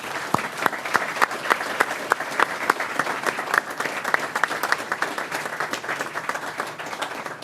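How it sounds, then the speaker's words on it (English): A room at a board meeting breaks into applause, with crisp individual claps clearly audible over a steady bed of clapping that continues for several seconds. "let's give them all another round of applause."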